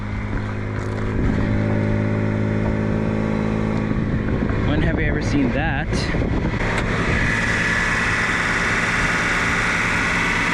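A rare Nissan Atlas truck with a turbo sits idling, its engine and exhaust giving a steady, close, droning rumble throughout while someone talks over it.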